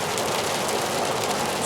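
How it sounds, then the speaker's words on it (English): Rain falling while driving on the I-10 highway, a steady broad rushing wash of drops and road noise that stays constant throughout. "it's starting to rain"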